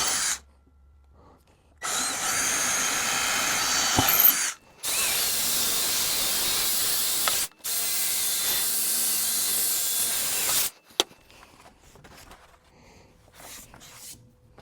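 Power drill boring hardware holes through a wooden drawer, three sustained whirring bursts of several seconds each separated by short pauses, close and loud, followed by quiet handling clicks.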